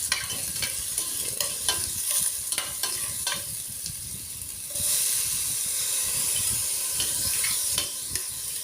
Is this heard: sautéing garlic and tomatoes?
yes